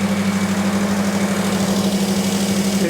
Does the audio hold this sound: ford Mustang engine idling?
yes